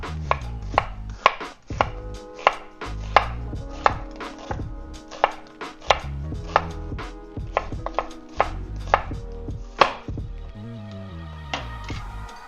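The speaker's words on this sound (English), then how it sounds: "We could just slice it following the contour of the onion" Knife slicing through an onion for a one-pan seafood dish, with a steady run of crisp, sharp chopping strikes on a board, about two per second, close and loud, with no talk.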